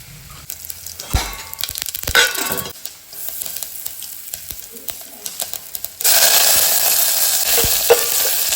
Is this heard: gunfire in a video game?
no